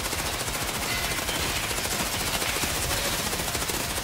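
Sustained automatic gunfire from emptying a magazine in the video game Escape From Tarkov, a dense, loud, continuous rattle of rapid shots filling the whole stretch with no talk over it.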